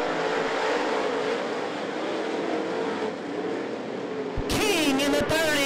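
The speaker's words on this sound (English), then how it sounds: "Simpson leads the field out of four to Green Flag Racing" Late model stock cars roar around the I-75 Raceway oval in a sustained, dense engine drone under green-flag racing, with a louder, closer burst of revving engines sweeping past near the end.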